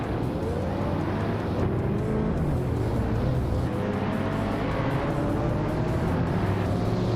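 Several racing car engines, among them a 2011 BMW 1M, roar together at a race start at the Buxton Rumble track in a video game, a steady loud drone with rising revs and no talk.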